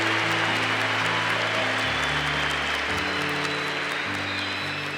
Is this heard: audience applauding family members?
yes